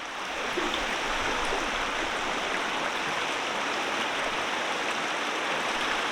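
Water runs steadily through an ASR 50 inch folding gold sluice loaded with material classified to 1/8 mesh, a constant close rushing wash with no pauses.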